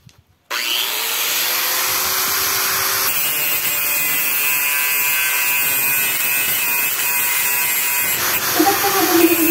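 An angle grinder grinding down a weld on a kuliglig hand tractor during repair, a loud continuous high whine starting abruptly and running steadily, rising slightly in pitch near the end.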